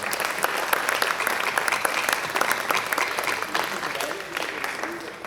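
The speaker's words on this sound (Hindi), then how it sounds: "इस पूरी टीम के लिए भरपूर तालियां बजाइए" Sustained applause from an audience greets a team at a Lahore stage event, dense steady clapping that fills the whole stretch at an even level.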